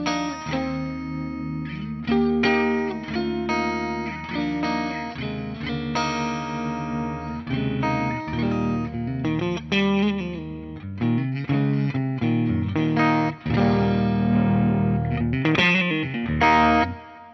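Electric guitar played through a Vertex SSS SRV overdrive pedal, chords and single notes breaking up into mild crunchy distortion, loud and continuous with short pauses between phrases.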